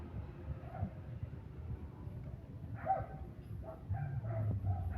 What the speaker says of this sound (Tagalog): Yung mga aso sunod na sunod sa akin.